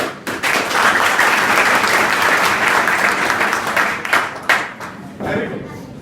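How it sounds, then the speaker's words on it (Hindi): Students of a class 11 and 12 group at an inter college in Bilariyaganj applaud in a school hall, with dense, loud clapping sustained for about four seconds, then fading into scattered claps and a brief renewed burst. "तो अपने लिए कम से कम खुल के ताली बजाओ"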